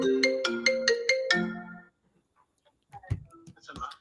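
A phone ringtone plays a quick series of bright, stepped electronic notes for about a second and a half. After a short silence, voices and small movement sounds follow.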